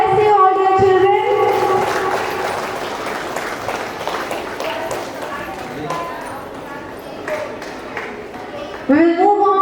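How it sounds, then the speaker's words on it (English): A crowd applauds the Standard 3 rank holders at a school graduation ceremony, sustained loud clapping that slowly fades, with a speaker's amplified voice over it. "Let us have a huge round of applause for them, the rank holders of Standard 3"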